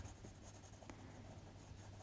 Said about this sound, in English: So I'm just going to come in with an 8B, start putting in that crease.